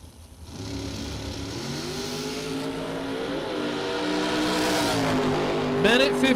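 A drag race car at a SuperBucks Showdown bracket event roars down the strip, its engine note climbing steadily in pitch as it accelerates, loud and continuous with a brief rising whine near the end.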